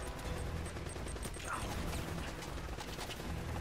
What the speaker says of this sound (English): there's so many like rifles shooting at me right now